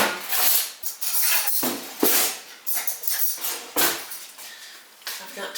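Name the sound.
spoon being fetched, cutlery clinking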